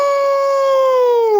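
A person's voice imitates a hound dog's howl, one long, loud, sustained wailing tone that sags slightly in pitch across about a second and a half, close and alone.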